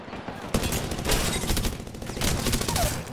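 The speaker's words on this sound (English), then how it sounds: "opening fire." Rapid gunfire in the Apex Legends video game, a dense, loud burst of automatic shots sustained for about three seconds with overlapping reports.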